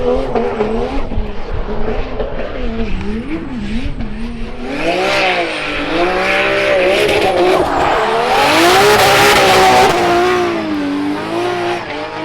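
A roughly 790-horsepower 2JZ-engined Nissan S-chassis car roars close and loud, the engine note rising and falling through revs before climbing hard, with tires squealing as it drives.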